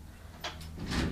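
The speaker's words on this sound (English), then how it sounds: "We close the door, I think." A door closing in a room used for group meditation: two soft, muffled thuds about half a second apart, fairly close, with no one speaking.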